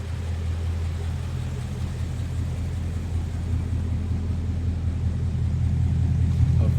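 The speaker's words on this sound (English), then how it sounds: "A very nice rumble out of that exhaust." A tuned Ruby Red 2017 Ford Mustang with a six-speed and MBRP exhaust idles close by, giving a steady, deep low rumble that holds even and slightly swells toward the end, with no voices.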